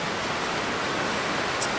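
A waterfall in Rouken Glen Park, Glasgow, rushes as a steady, loud, broadband roar heard from close by, with no talk over it.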